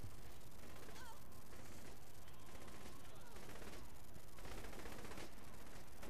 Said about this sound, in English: Yay, I got my minigun back.